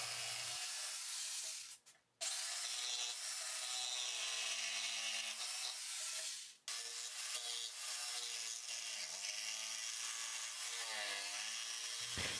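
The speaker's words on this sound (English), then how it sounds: "using the jigsaw is the easiest way to remove material in this situation" A jigsaw cuts steadily through wood while building a simple wooden stool, its loud buzzing stroke close and continuous, broken by two short pauses as the blade stops and restarts.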